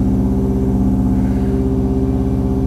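A rough-running engine in an all-wheel-drive Mazda Miata with an off tune, idling loud and close in a steady uneven thrum with a pulsing low beat throughout, no talking.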